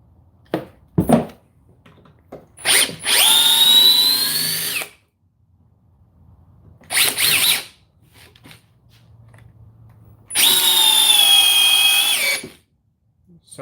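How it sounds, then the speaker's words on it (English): An impact driver buzzes in three bursts, short then long, with rapid hammering rattle as it sinks a screw, separated by quiet pauses and a few clicks. "something else that an impact's good for that you wouldn't want to do with a drill"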